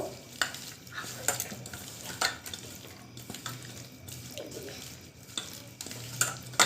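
Hands squish and mix chicken pakora pieces with cornflour in a bowl, soft wet rhythmic squelches and occasional knocks, fairly quiet and close.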